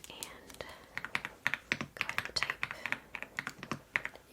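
Soft, quick keystrokes tap on a computer keyboard in an irregular run of close, crisp clicks, faint and intimate, with a quiet voice murmuring behind them.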